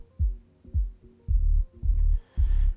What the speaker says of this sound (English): No highs at all, only lows.